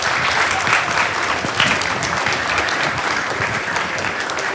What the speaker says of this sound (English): So now it's a time to give a big round of applause for all these teams that we talked about.